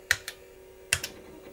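Crisp keystrokes on a computer keyboard while starting an old EGA PC game, two short clusters of sharp clicks, loud and close, separated by a quiet pause, with no speech.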